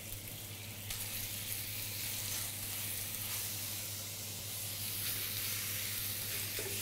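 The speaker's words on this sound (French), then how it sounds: "Et donc là, tu mets ton ananas que tu vas caraméliser." Pineapple pieces caramelizing in butter in a frying pan for brioche perdue, a steady close sizzle and hiss throughout, with a faint low hum beneath and no voices.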